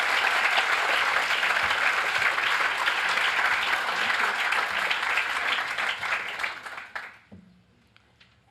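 An audience applauds warmly at a commemorative event for Eddie Jaku, sustained dense clapping for about seven seconds before fading into quiet.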